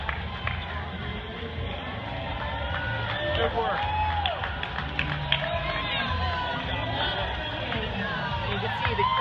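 Spectators line an Ironman race finish in Boulder, cheering, whooping and clapping for passing athletes amid steady crowd chatter, with voices nearby talking over the noise.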